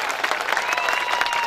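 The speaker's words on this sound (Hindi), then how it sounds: "एक बार जोरदार तालियों से" Crowd applause at a political rally, a dense wash of many hands clapping, loud and continuous over a short stretch.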